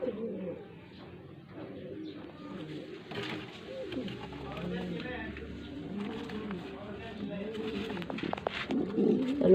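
Several breeder pigeons coo in soft, repeated low rolling calls that keep going close by. A person talks over them at times.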